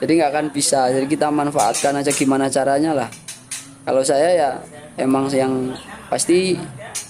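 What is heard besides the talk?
No everyday noises stand out.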